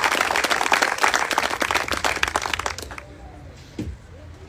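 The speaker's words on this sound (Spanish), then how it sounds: "Fuerte los aplausos para ellos" Applause for newly elected municipal officials of Itala: a dense, loud burst of clapping lasting about three seconds, then stopping abruptly into near quiet with a faint brief sound.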